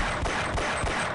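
Gunfire in the video game Half-Life, a dense rapid burst of shots over a continuous noisy wash, with no voices.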